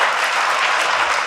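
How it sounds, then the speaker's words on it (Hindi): A crowd claps in a brief, dense burst of applause at an event in Tehri Garhwal, Uttarakhand, loud and even for just over a second. "एक बार जोरदार ताली बजा करके इन सारे"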